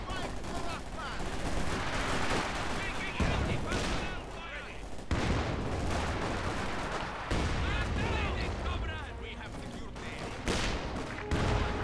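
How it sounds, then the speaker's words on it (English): Dense battlefield gunfire in a Company of Heroes 2 1v1 match, rapid machine-gun bursts and rifle shots layered with explosions, continuous and loud, with a commentator talking over it. "Further shooting going on here"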